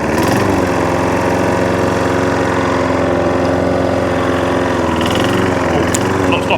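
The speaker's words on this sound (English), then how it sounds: "Idles. Happy with that." A Hayter 41 lawnmower engine idles steadily close by, a loud, even mechanical drone that runs through the whole clip with no speech.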